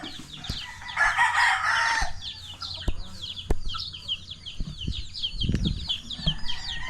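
Gamefowl bred for cockfighting cluck and chatter steadily close by, with a crow-like burst early on, scattered knocks and a low thump, while people talk faintly in the background.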